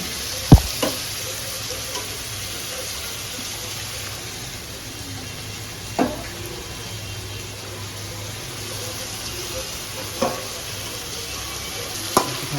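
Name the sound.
frying chicken chaap in a pan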